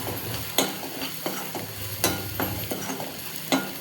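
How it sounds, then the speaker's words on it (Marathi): Masala with Kashmiri red chilli sizzles in a pan while being sautéed, a steady frying hiss broken by repeated scraping and stirring knocks of a spoon against the pan. "छान परतून घ्यायचं आहे मसाला."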